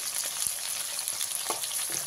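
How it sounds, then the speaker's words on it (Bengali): Bhetki fish bones frying in oil in a pan, a steady close sizzle with a few soft stirring scrapes and taps across its two seconds, no voices. "এইভাবে ভালো করে আমি কাঁটাগুলোকে ভেজে নেব"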